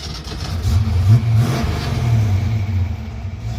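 A Ford Mustang engine cranks with a steady low rumble that rises briefly and holds near and fairly loud, with no talk.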